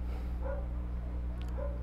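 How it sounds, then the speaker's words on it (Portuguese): Two faint, short dog barks, a second apart, heard distantly over a constant low hum. "O cachorro começou a latir"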